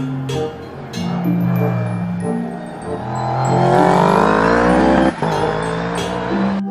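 A Formula One race car engine revs loudly and builds in pitch, with a tire squeal and a sharp knock partway through, heard close and without talk.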